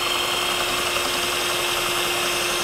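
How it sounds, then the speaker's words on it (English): Gemini Taurus 2 ring saw cutting a hole in glass, a steady high motor whine with a constant hum and grinding hiss, close and unbroken with no speech. "what I do is I brace the drill against my hand"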